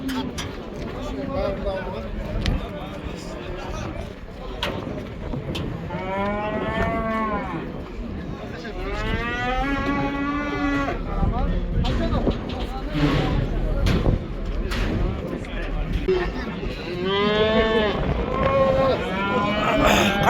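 Cattle at the Kyzylorda livestock market, where heifers, calves, cows and bulls are traded, let out several drawn-out moos spaced across the scene, mixed with people talking and general market bustle.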